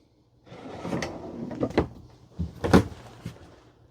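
A full-extension ball-bearing drawer in a travel trailer kitchen slides open and shut with rolling and clunking thuds, several knocks close by in a quiet room.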